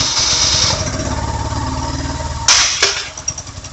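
A BMW motorcycle engine runs at a steady idle, loud and close, with a low pulsing rumble throughout and a couple of sharp mechanical clicks near the end as it is shut off.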